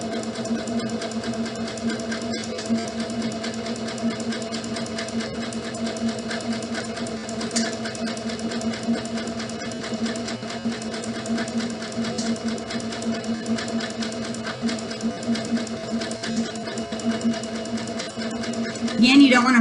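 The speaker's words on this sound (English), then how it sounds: "let the sewing machine do its job" A sewing machine stitches fabric for a scrunchie in a steady, continuous hum with a fast rhythmic whir, heard close and under an ongoing voice talking.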